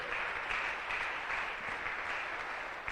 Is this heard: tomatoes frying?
no